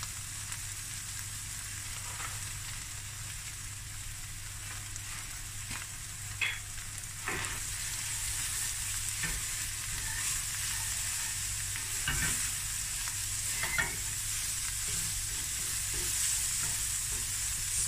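Spices for a hake and snoek fish curry sizzle steadily in a pot, with frequent scraping stirs and clinks of a spoon close by, no talking.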